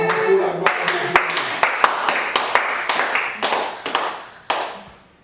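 A church congregation claps in a steady rhythm of sharp, loud beats that grow looser toward the end, with voices faintly beneath.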